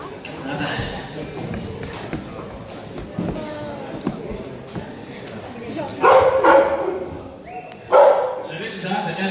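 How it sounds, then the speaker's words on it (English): A working Australian Kelpie sheep dog on a sheep farm lets out a couple of loud, sharp barks near the end, following a stretch of a person talking outdoors. "The dogs that we use are Australian Kelpies, specially bred for working sheep."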